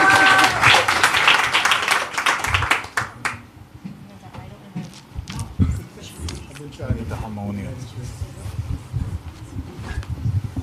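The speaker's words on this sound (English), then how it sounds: "So big round of applause." Audience applause at a Janmashtami 2025 celebration at the Bhakti Center, a dense burst of clapping for the first few seconds that fades into scattered room noise and voices.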